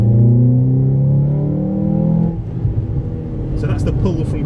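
A Ford Fiesta ST with a 2.0 Duratec engine and Mountune inlet manifold pulls hard in second gear, its loud, rising drone building for about two seconds before easing off into road rumble and faint voices.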